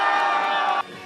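A crowd at a mountain trout festival, gathered for a bare-handed trout-catching event in icy water, lets out a loud, brief collective shout with arms raised, then cuts off abruptly.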